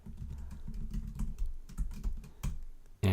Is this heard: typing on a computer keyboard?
yes